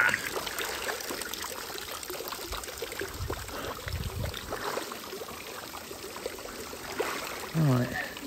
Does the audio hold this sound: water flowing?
yes